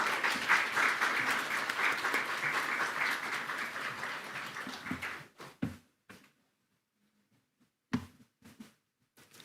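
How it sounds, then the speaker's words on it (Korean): Congregation applause in a church during a Sunday service, welcoming a guest speaker. A dense, steady round of clapping lasts about five seconds, then cuts off to near silence, broken by a few short sounds and the start of speech. "박수로 환영하겠습니다."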